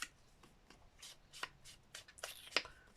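Loose scraps of paper from a desk are handled and shuffled, giving quick, soft rustles and flicks at irregular intervals that grow a little crisper toward the end, close by with no voices.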